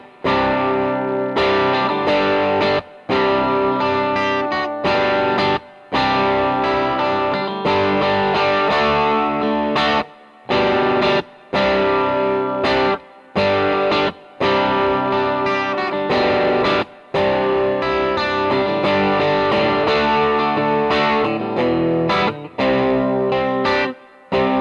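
Electric guitar played through an Orange CR60 amp with light overdrive and spring reverb rings out in chords and riffs, short pauses breaking the phrases as the reverb tails linger.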